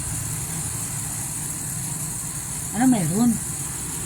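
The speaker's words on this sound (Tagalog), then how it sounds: "Narinig akong parang makina." An engine runs nearby with a steady low hum that holds throughout, joined briefly by a short warbling tone, while a person speaks over it.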